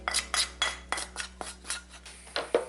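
Cooked mince is turned out of a pan onto a plate with a quick run of about a dozen close scraping, clinking utensil strokes in an uneven rhythm, with no talk.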